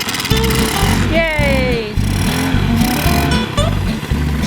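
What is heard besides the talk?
motorcycle engine running after river crossing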